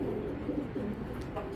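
A female racing pigeon of a foreign bloodline coos softly and close by in a low, rolling murmur, with faint voices in the background.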